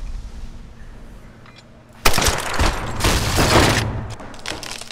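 Gunshots in Tomb Raider burst out suddenly after two seconds of quiet ambience, then a loud, sustained flurry of shots and crashing impacts continues to the end.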